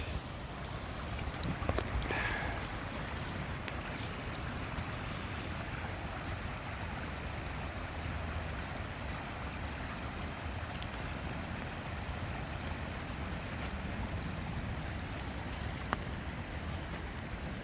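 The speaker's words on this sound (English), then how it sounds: "The creek still flows." Rocky Creek runs where it merges into a larger creek, giving a continuous, even rush of flowing water outdoors with a faint breeze and no talking.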